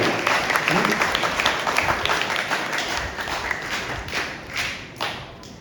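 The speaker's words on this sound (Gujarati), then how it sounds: "આપણે એમને તાળીઓથી વધાવીએ છીએ" Applause at a church feast-day and First Communion Mass, a full burst of clapping from the congregation that gradually thins and fades over several seconds.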